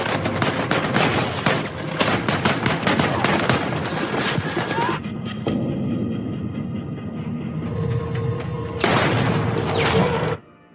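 Dense gunfire rages through a war film battle scene, rapid overlapping shots and bursts crackling loudly for about five seconds, easing to scattered distant fire and rumble, then erupting into another intense volley near the end.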